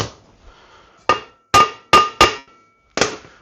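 Five sharp panel hammer strikes ring on a metal lathe, each one clanging and decaying, with a quick triple in the middle and brief pauses between.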